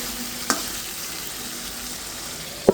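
Shing fish with potatoes and green chilies frying in a pan makes a steady, dense sizzle throughout, broken by two brief knocks of a utensil against the pan, with no talking.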